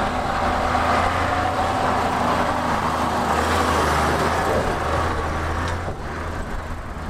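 A Star 266 truck on road tyres drives over asphalt, giving a steady, loud engine drone with broadband road and tyre noise throughout, easing slightly near the end.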